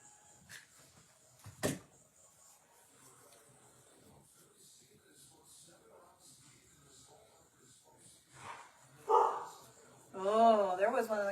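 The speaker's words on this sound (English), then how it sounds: "Did you guys hear the greyhound bark?" A greyhound barks in a short loud burst indoors, with a few more yips near the end, over faint background talk and household noises.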